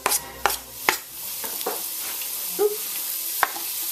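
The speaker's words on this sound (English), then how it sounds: "it makes a nice sound as all the garlic hits" Garlic for pasta e fagioli sizzles and crackles in a hot pot, with a few sharp clinks and stirring scrapes over a steady frying hiss.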